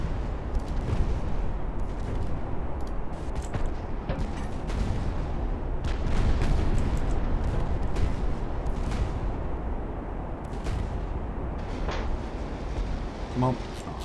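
In the naval game Ultimate Admiral Dreadnoughts, warship guns fire as repeated booming blasts over a constant rumbling battle din, with someone talking throughout.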